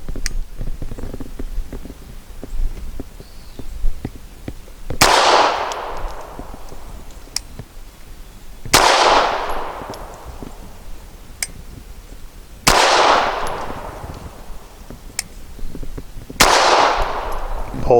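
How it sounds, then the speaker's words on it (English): Four loud suppressed shots from a Bersa Thunder 380 pistol firing Fiocchi ammunition at 7 yards, spaced about four seconds apart, each a sharp crack with a short decaying tail. "5 shots from 7 yards with the Fiocchi."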